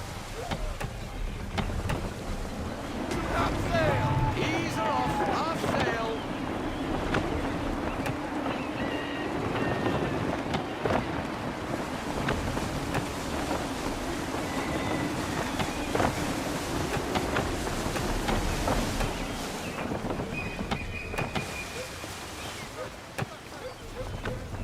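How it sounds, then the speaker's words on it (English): Gusty wind rushes around a sailing ship at sea in the Assassin's Creed III video game, a continuous blustery roar with creaking and water wash, while a voice speaks over parts of it. "Wind looks to be shifting. Stay alert, Connor. Gusty winds can be difficult to manage."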